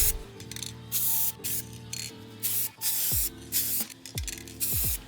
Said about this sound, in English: I hit them all with this can of gold spray paint